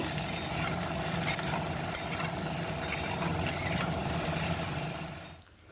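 Vegetables fry in a wok with a little oil, panch phoron, chilli and bay leaf, sizzling steadily and close with light stirring scrapes, then fading out near the end.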